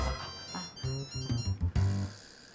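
A mobile phone ringtone plays a short melodic phrase in a quiet indoor room, moderately loud, ringing for a couple of seconds before a brighter tone takes over.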